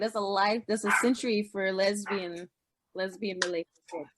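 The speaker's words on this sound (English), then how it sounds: "I'm sorry if you can hear my dog barking." A pet dog barks in a home during a conversation, with yips and short barks mixed into continuous talk between people.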